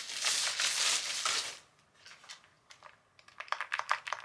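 Clicky typing on a pink Aula computer keyboard with backlighting: a dense burst of rapid keystrokes up front, then a pause and scattered, lighter key presses building into quicker taps, close and fairly quiet with no talking.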